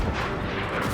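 Ship cannons firing in a naval battle in Assassin's Creed Black Flag, one loud, dense booming blast that fills the whole moment without pause.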